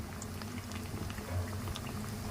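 Brinjal bajji fritters fry in a pan of hot oil, a continuous soft sizzling and bubbling texture at close range with no talk.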